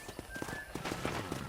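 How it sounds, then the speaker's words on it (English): Horse hooves clip-clop in a quick, uneven rhythm alongside a whinnying neigh in the Red Dead Redemption video game, moderately close and without speech. "I picked out a fine horse for you."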